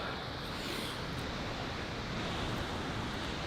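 Ocean surf on the Alaska coast rushes in a dense, continuous wash mixed with gusty wind buffeting the microphone, with no clear individual wave breaks.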